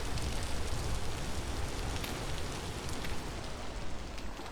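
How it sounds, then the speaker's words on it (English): Heavy rain from the survival game Vintage Story, a dense, loud, unbroken patter that fills the whole stretch with a slight rise and fall. No voices. "It's a shame it's raining because it's only like 7 o'clock."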